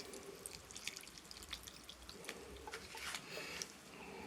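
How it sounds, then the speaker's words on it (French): Plants being watered gently by hand, a soft trickle and scattered drips falling onto soil and wooden slats, quiet and close with no talking. "il n'y a plus qu'à arroser un petit peu"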